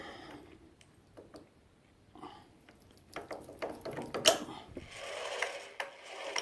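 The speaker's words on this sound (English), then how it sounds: "Tighten the chuck up." A drill chuck on a magnetic drill is ratcheted tight by hand, giving a run of close, dry clicking and grinding bursts that grow busier and louder toward the end, with no talk.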